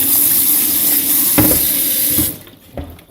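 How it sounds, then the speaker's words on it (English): Tap water pours steadily and loudly over canned beans being rinsed in a sink for baked-bean lasagna, with a few clunks against the can before the flow cuts off and a soft knock follows. "I'm going to rinse these one can at a time, just so it's easy to rinse."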